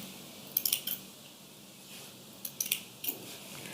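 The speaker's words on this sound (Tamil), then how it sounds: "பாட்டம் சைடு இருக்கு, பாபினோட த்ரெட் இருக்கும், அதையும் கட் பண்ணிக்கிறேன்" Scissors snip the bobbin thread after letter embroidery on a Brother sewing machine, with two small clusters of sharp metallic clicks and snips close up against a quiet background and no speech.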